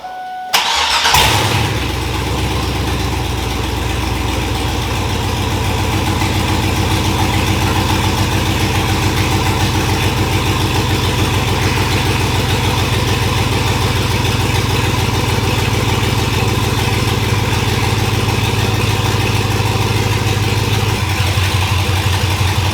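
A giant monster-truck school bus engine cranks briefly, catches and settles into a loud, rough, steady idle rumble that runs on unbroken and close by.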